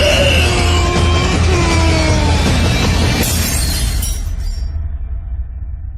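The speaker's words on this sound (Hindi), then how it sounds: "शीशे पर इतनी जोर से मारा कि शीशा वहीं टूट गया।" Mirror glass struck hard and shattering, a loud dense crash with scattering fragments and tinkling shards that thin out toward the end, heard alone without speech.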